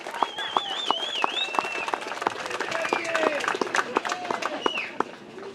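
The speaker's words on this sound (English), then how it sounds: "Give yourselves a big round of applause." Crowd clapping and cheering at a campaign open house, sharp individual claps and whistles over a lively room with voices mixed in.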